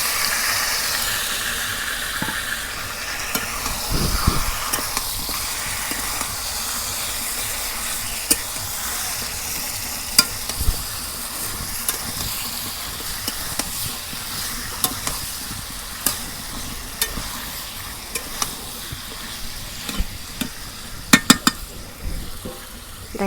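Chicken curry tempering in a pan, a soft steady sizzle and hiss with scattered light scrapes and clinks of stirring against the pan, close and continuous with no talking.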